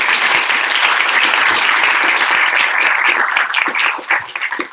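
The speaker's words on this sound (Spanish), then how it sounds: "un pequeño aplauso para Antonia." Audience applause at a small Spanish-language meetup event, steady dense clapping from a crowd that holds for about four seconds before thinning out into scattered claps at the end.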